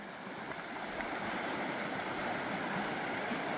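River water rushing steadily at a backcountry crossing in the mountains of Wilmore Wilderness Park, Alberta, a continuous broadband flow heard close by with no voices.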